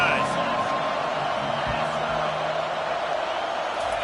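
Stadium crowd in the College Football 25 video game: a steady, dense roar of a large crowd filling the background throughout, with someone commentator talking over it.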